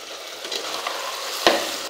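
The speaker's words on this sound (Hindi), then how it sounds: "अब मीट को यहाँ पे अच्छी तरह से भून लेना है" Chicken meat seasoned with turmeric sizzles and fries in a clay pot, a steady bright hiss with a brief sharp crackle near the end, close and alone.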